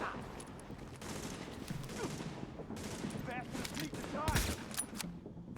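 Gunfire in the video game The Division: a steady stream of moderately loud shots and volleys, denser toward the end, with game voices mixed in.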